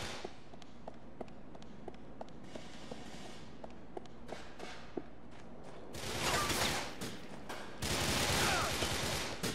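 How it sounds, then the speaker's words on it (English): Gunfire in Grand Theft Auto IV, a string of sharp scattered shots cracking at irregular intervals, then heavier bursts of rapid fire building loud near the end. "Stop shooting me."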